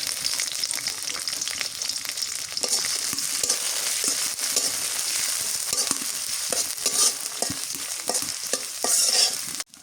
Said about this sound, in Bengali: এখন ফুলকপি রান্না করি সরিষার তেল দিয়ে পেঁয়াজ কুচি দিয়ে দিই